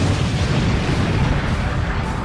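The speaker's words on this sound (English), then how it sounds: "Gohan's body explodes cataclysmically. An explosion so large you wouldn't expect anyone to survive." A huge cataclysmic explosion from the Dragon Ball Super anime, a dense sustained roaring blast of rumbling noise, loud and continuous throughout without any voices.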